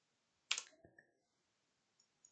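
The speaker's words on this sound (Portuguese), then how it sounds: "Vou dar 2 cliques nele." A computer mouse clicked twice in quick succession, sharp and close in a quiet room, followed by faint small clicks.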